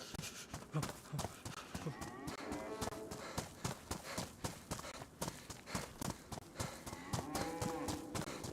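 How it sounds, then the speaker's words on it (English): Cattle mooing in the survival video game DayZ, set among clip-clopping hooves and busy farm-animal noise, with repeated low calls rising over a steady rhythmic clatter. "That cow sounds very delicious with his mooing."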